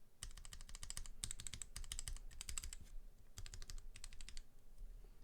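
Brown mechanical keyboard switches pressed in quick clusters, with short runs of soft, muted clicks separated by brief pauses. The sound is close and quiet, with no talking.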